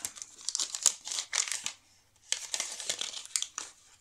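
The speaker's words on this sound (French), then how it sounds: "on va ouvrir l'enveloppe de chez La Fée du Scrap" A small paper envelope is torn open and handled up close, giving bursts of crinkling and rustling paper with a short pause midway, fairly soft and with no one talking.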